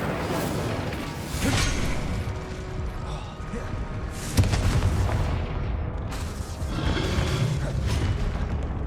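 Repeated bursts of the Incendio fire spell in Hogwarts Legacy, sharp whooshing blasts and impacts at about 1.5, 4.4 and 7 seconds amid ongoing combat noise, with no talk.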